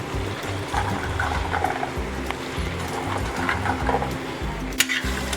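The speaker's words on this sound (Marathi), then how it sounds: "आता आपण त्यामध्ये भाज्या घालून घेऊया शिमला मिरची वाटाणा आणि फ्लॉवर मी सर्व एकदमच घालून घेणार आहे" Capsicum, peas and cauliflower hit a hot pan and sizzle steadily while a spoon stirs them, scraping and knocking in a repeated rhythm close by.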